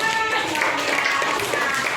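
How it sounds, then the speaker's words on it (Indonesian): An audience of children and adults claps for a young boy, giving brief, lively clapping with voices mixed through it. "Tepuk tangan dong buat Gaizan."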